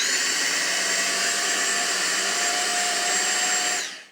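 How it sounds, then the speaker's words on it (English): A Dyson vacuum cleaner, just cleared of a clog, runs loud and steady with a constant whine and airy rush that holds evenly before cutting off abruptly at the end. "my vacuum is working great now"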